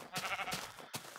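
Minecraft sheep giving short, nasal bleats, three quick calls in a row at moderate volume, with no other sound around them.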